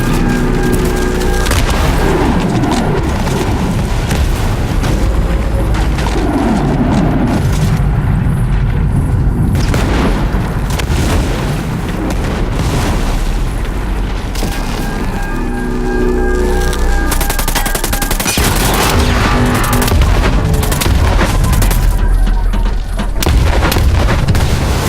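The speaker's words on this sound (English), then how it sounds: "there's a mortar. There's a mortar." Heavy booming mortar impacts and gunfire rumble almost continuously in a Ghost Recon Breakpoint battle, loud and dense throughout with repeated deep blasts and crackling shots.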